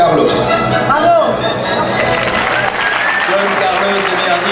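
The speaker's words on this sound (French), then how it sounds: "c'est un tonnerre d'applaudissements" Dense, loud applause from a school audience after a Verdi Don Carlos performance fills the room continuously, with cheering voices and chatter mixed through the crowd.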